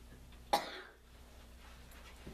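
A single short human cough sounds faintly in a quiet room, followed by near silence.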